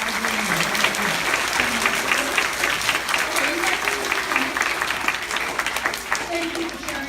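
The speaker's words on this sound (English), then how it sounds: "how about a big loud round of a big clap for all of our dreamers?" Sustained applause and clapping from a crowd at a kids event fills the room steadily for several seconds, loud and dense without pause.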